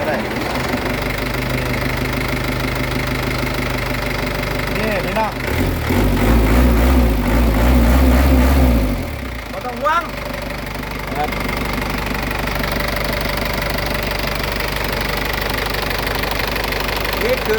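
The diesel engine of a short six-wheel NKR truck idles with a steady, heavy rumble and knocking, briefly revving louder midway before settling back to idle.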